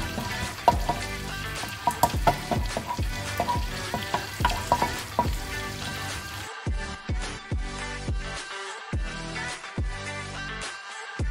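Eggplant frying in a pan, a steady crackle and sizzle with sharp clattering stirs, later giving way to a loud, clipped, rhythmic sequence of hits.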